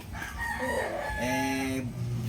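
A gamecock rooster crows once at a game farm, a long drawn-out call rising and then falling, heard at a moderate distance over steady background noise.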